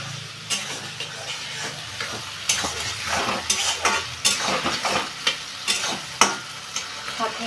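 Chicken pieces frying with soy sauce in a pan, a steady loud sizzle broken by regular scraping stirs and a few clinks of a utensil against the pan, with no talking.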